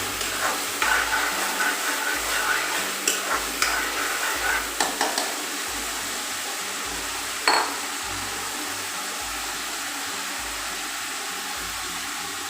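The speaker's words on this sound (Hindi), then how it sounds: "हल्का सा ऑयल में हम इसे फ्राई करेंगे।" Potato slices fry in a little oil, a broad steady sizzle with scraping stirs and a few utensil clicks early on, then a continuous hiss, close and fairly loud.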